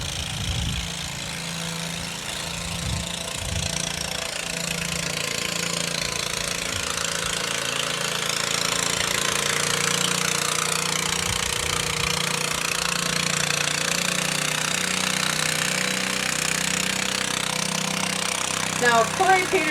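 Garden tractor engines drone and rumble steadily at a small-engine tractor pull, a loud mechanical roar with knocking, rattling texture sustained throughout, with crowd and announcer noise faintly mixed in.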